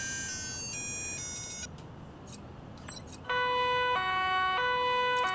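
London two-tone ambulance siren in an ambulance video game, a loud alternating two-note wail that switches on partway through and holds steady at the end, with a fainter, higher earlier siren before a brief lull.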